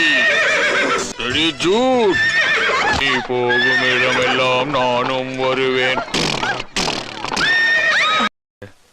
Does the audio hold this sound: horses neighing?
yes